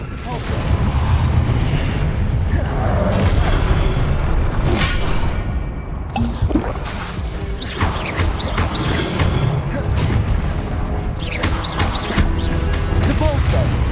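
Spell blasts from Confringo and Incendio go off in a Hogwarts Legacy battle, a dense run of booming impacts, crashes and sharp whacks that keeps going. A voice calls out over the rapid, loud explosions.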